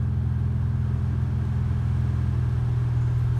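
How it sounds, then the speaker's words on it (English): A 2016 Ford Focus RS engine, freshly flashed with a Cobb Accessport, runs in a steady, low, rumbling idle, close and even, with no change in pitch over a few seconds. "This time I'm actually going to start the vehicle all the way"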